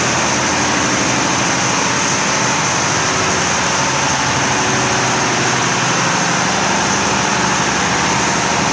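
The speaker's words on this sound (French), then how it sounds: "On reconnaît bien le moteur tête, ce qui claque, hein." A diesel engine runs steadily at close range beside a generator and fuel tank, its loud, continuous rumble topped by a dense metallic clatter that never lets up, with no voices.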